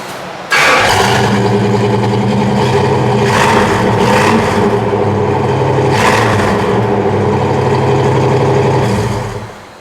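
A 1976 Pontiac Firebird with dual exhaust cranks and fires, then holds a loud, deep, rumbling idle with a couple of revs before cutting off near the end, with no talking.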